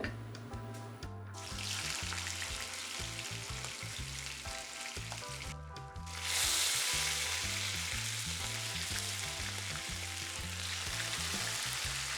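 Oxtail pieces hitting a pan of caramelized sugar set off a loud, steady sizzle that flares even louder about halfway through and keeps frying strongly to the end, with no talk over it.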